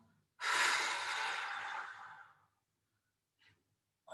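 A long, loud exhale during a tricep stretch over a foam roller, lasting about two seconds and fading out. Two brief faint breaths or sniffs follow.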